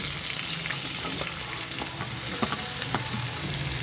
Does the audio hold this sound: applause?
no